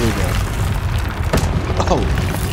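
A fiery Incendio spell blast in the wizarding video game Hogwarts Legacy: dense, rumbling booms and crackling bursts that roll on continuously, with a voice talking over them.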